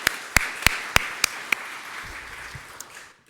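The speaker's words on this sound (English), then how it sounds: "So please just give a little round of applause for Diana." A congregation at an annual meeting gives a short round of applause: a few loud, crisp claps landing in a quick, spreading rhythm before tapering off into room quiet, with one late clap.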